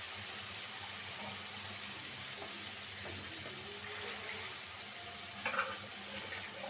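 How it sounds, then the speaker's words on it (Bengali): Spice paste sizzles steadily in oil in a pan while a fish curry with pointed gourd is made, a continuous close hiss with a brief louder splash-like burst near the end; no talking. "মশলাটা 2-3 মিনিট মশলাটা কষায় নিই 2-3 মিনিট"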